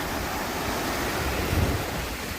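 Sea waves rolling in at sunset, a steady, broad wash of surf with wind noise buffeting the microphone and a slightly heavier swell near the end.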